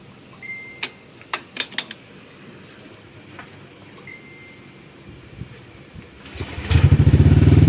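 A Yamaha Nmax scooter with a 195cc engine cranks with a few clicks and short starter bursts, then fires up into a loud, rapid idle close by near the end.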